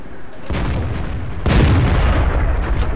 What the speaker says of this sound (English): Where did that shot go?